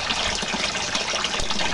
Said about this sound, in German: Jetzt warten wir noch, bis das Wasser bzw. der Tank voll ist.